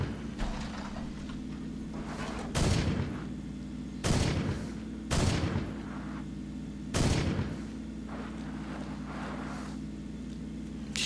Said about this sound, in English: Yeah, waste all your ammo trying to shoot me.